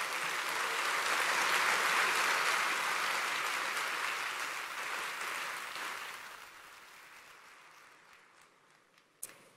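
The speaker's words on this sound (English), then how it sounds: "Let's give them a round of applause." An audience at an IOC session applauds in a broad, sustained wash of clapping that swells early, then gradually fades away over several seconds, heard alone without speech.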